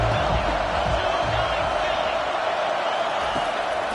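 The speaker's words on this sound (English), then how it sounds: "Decibels rising as the crowd gets behind this defense on 3rd down." Simulated stadium crowd noise from a college football video game, Georgia versus Auburn, a broad roaring wash of fans rising on third down, steady and loud with faint whoops buried in the din.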